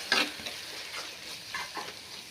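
Idly fry made from rice idly pieces is stirred in a hot pan with spices and pepper powder, crisp sizzling under a few scraping spoon strokes, close and steady.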